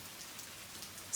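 Steady rain patters on a surface in a soft, even wash of drops, close and continuous with no voices.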